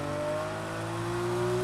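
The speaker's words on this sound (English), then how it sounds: "The only way we're getting around this corner is a handbrake turn." Handbrake turn of a car in the racing video game Need for Speed Heat: a steady, loud engine drone with a rising whine held throughout, no talk.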